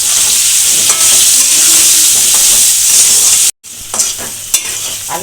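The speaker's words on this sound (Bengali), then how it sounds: "নুন হলুদ দিয়ে ভালো করে ভেজে নেব" Rice for khichuri frying with salt and turmeric in a pan, a loud, close, steady hissing sizzle with stirring scrapes, cut by a brief silence and then resuming with sharper spatula knocks.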